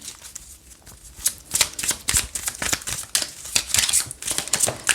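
Tarot cards being shuffled by hand for a new spread, a rapid run of crisp riffling flicks and slaps in irregular bursts, close up and alone with no voice.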